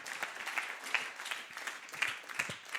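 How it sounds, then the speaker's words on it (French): A church congregation applauds during a Sunday worship festival, a steady, moderately loud patter of many hands clapping, with a faint voice underneath. "On acclame le Seigneur. Acclame bien."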